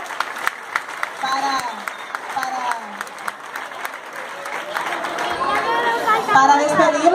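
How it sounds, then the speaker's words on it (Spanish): Audience applause at a school graduation ceremony, many hands clapping in a sustained patter that swells toward the end, with crowd chatter and voices mixed in. "vamos a despedir con un fuerte aplauso a los miembros de nuestra mesa directiva"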